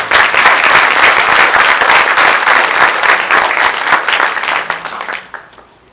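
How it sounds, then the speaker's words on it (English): A crowd claps loudly and densely for Team Jamaica Bickle at their 20th anniversary reception, the applause steady for about five seconds before thinning out and fading. "please give them a big round of applause"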